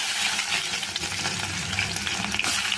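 Vadagam and fenugreek seeds frying in hot oil in a pan for kara kuzhambu with karunai kizhangu, giving a steady, close crackling sizzle with faint stirring and no speech.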